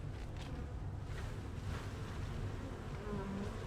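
Honeybees buzz steadily around a frame of honey being pulled from a hive for extraction, a dense, continuous hum that stays close and even throughout with no voices.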